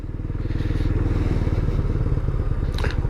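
Benelli Imperial 400 engine throbbing steadily on a test ride, a loud, close, even low rumble with a brief clatter near the end.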